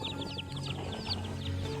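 Chickens and chicks crowd around a plate of food scraps outdoors, clucking in quick overlapping chatter, close and continuous with no talking.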